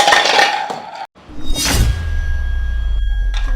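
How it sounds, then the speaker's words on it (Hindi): Kitchen utensils clatter and fall, with metallic clinks and a brief crash followed by a thud as a glass rolling board and rolling pin drop, then a low rolling rumble settles. "बर्तन ही गिर गए।"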